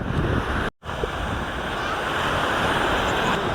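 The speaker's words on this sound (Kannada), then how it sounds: "ನೋಡಿ, ಅಲೆಗಳ ಶಬ್ದದಲ್ಲಿ ನಾವು ಇದ್ದೇವೆ" Ocean waves breaking at Maravanthe beach on the Karnataka coast, a steady broad wash of surf with wind noise across the microphone, close and loud, with a brief dropout near the start.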